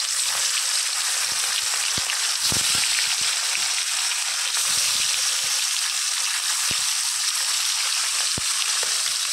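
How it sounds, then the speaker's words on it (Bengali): Fish fry in hot oil in a pan with a loud, continuous sizzle, broken by occasional sharp pops and crackles, with no voices. "মাছটা ভাজা হোক,"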